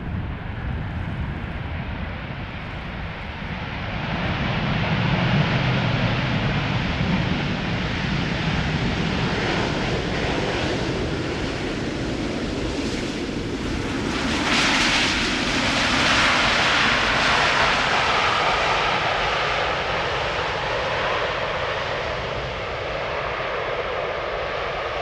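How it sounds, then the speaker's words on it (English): Delta Airlines Airbus A350-900, flight from Atlanta, arrives at Amsterdam Schiphol Airport in humid air, its jet engines a loud continuous roar that builds and swells as it passes overhead, then eases off. "This is Delta Airlines Flight 74, A350-900, arriving from Atlanta, Georgia."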